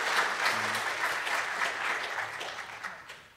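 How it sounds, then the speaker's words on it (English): A conference audience at a Drupal developer event applauds at the end of a talk, sustained clapping from a room of people at moderate level that gradually fades, with a low voice murmuring briefly underneath. "Or applause, maybe?"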